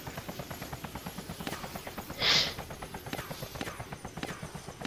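Helicopter setting down on a shop rooftop in the DayZ video game, a steady rapid rotor thump pulsing throughout at moderate loudness, with a brief brighter burst midway.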